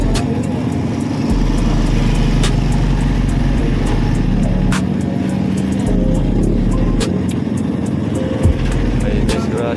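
Road traffic heard from a motorcycle on a morning ride to work, a loud continuous engine drone and wind rush with passing vehicles, slowed by an accident ahead.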